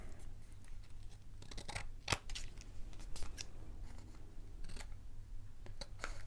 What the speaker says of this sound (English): bring in our scissors, and just snip it off